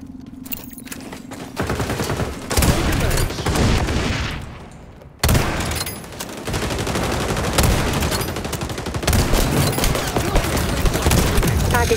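Gunfire in the online shooter XDefiant, with bursts of automatic rifle fire and rapid shots cutting in and out, a sudden break of near silence midway, then more sustained firing and game effects.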